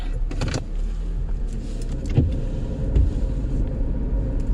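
A car being driven after a dead battery was replaced, with a steady, loud low engine and road rumble throughout and a couple of brief knocks or clicks from inside the cabin.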